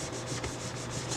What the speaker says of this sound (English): let's go ahead and burnish down. As always, we're going to burnish on both sides.